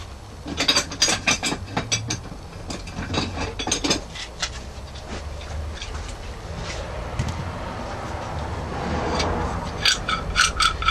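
Clamps being worked and tightened onto glued knife handle scales, a string of close clicks, ratcheting taps and small metallic knocks in irregular bursts, quieter in the middle with faint rustling.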